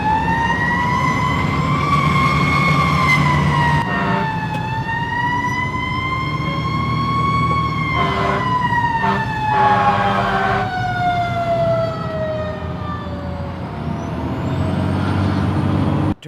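A fire truck's siren wails in rising and falling sweeps as the engine responds to a call, loud and close, with a brief hiss of air brakes and a truck engine rumbling underneath.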